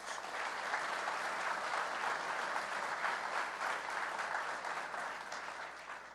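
An audience at a public event with the Governor in Buffalo applauds, a dense steady wash of many hands clapping at once, sustained for several seconds before tapering slightly at the end.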